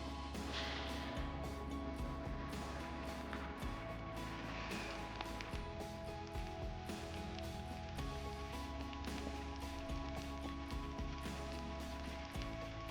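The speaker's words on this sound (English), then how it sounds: "the really loud rain and wind that we had overnight" Heavy overnight rain and wind outside a camper van parked off grid in Japan, a dense steady patter and hiss on the vehicle with a constant low rumble, continuous throughout with no voices.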